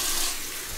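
Running water splashes as a face is rinsed with cold water after shaving, a brief close-up wash of broadband hiss with no voices.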